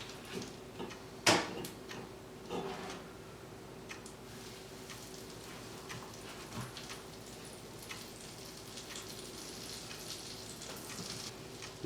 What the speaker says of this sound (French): le beurre commence à fondre